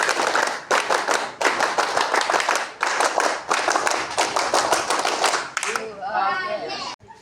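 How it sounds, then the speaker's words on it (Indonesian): Madrasah students in a Pramuka scout group clap in unison twice, the rhythmic pattern of sharp, loud bursts separated by short pauses. Young voices follow briefly at the end. "2 kali tepuk pramuka"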